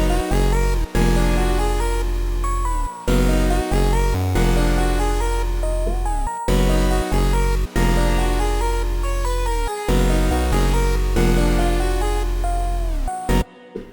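Synth patch built from a modulated sine wave with added harmonics and a square wave driven by a main sub bass, forming a loud electronic loop of punchy bass hits, gliding pitches and bright harmonic notes in a repeating rhythm.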